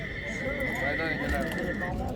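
A horse at a horse market in Namangan gives a loud, drawn-out neigh lasting about two seconds, close by, while people talk over it.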